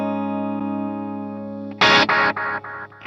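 Electric guitar through a Carbon Copy delay pedal: a held chord fades, then a loud strum repeats as several quickening, decaying echoes.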